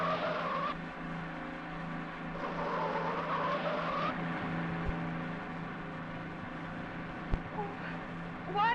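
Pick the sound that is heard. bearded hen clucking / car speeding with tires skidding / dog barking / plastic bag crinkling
car speeding with tires skidding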